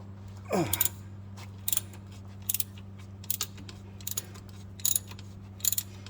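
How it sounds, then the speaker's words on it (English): A ratchet works a 12mm bolt loose on a 1998–2001 Jeep Cherokee XJ during a neutral safety switch job, giving short bursts of quick clicking that repeat at steady intervals over a low, constant hum. "now we'll put the ratchet up in here, and then we will get that 12mm bolt taken off of there."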